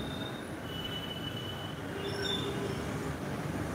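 Trains rolling past at night in a town street, a steady rumbling roar with faint metallic wheel squeals rising over it, continuous throughout at moderate distance.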